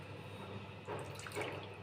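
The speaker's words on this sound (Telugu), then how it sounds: "ఇప్పుడు కొంచెం మామూలు వాటర్ పోసుకుందాం" Plain water poured into a thick tamarind curry with amaranth leaves, a soft, steady liquid trickle with a brief louder splash near the middle, close and fairly quiet.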